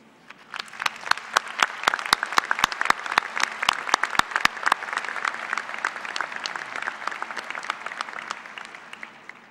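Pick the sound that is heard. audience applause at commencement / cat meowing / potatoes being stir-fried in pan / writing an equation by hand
audience applause at commencement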